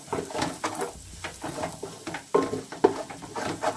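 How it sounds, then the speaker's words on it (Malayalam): Curry leaves sautéed and stirred in a home kitchen pan for chicken biryani, with soft irregular scraping of a spoon against the pan and light sizzling, a few sharper clinks standing out near the end. "പച്ചക്കറിവേപ്പില നന്നായിട്ടൊന്ന് പച്ചമണം മാറുന്നവരെ ഒന്ന് വഴറ്റി കൊടുക്കുക"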